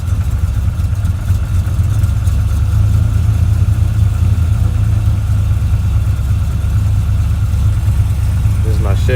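Half-ton pickup truck engine fitted with a 4L80E automatic transmission, running steadily at a loud, constant low rumble with slight rises in pitch, close up and without talk.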